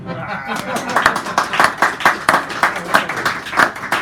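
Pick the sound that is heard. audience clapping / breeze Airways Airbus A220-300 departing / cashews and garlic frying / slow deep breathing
audience clapping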